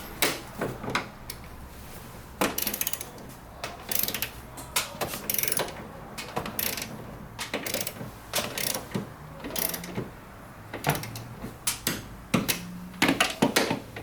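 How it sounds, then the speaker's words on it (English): Torque wrench tightening three coilover strut bolts to 20 foot-pounds during a car suspension install, a steady run of close, loud ratcheting clicks in bursts with brief pauses between them. "I can torque down these 3 bolts to 20 foot-pounds each"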